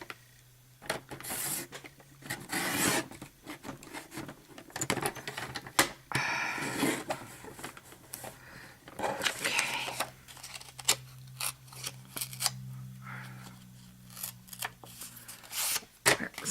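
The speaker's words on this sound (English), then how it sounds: "I'm going to take just a hair off if my cutter will allow me" A paper cutter slices and scrapes while trimming craft card, with irregular rasping strokes and small taps, close by, and brief bits of talk in between.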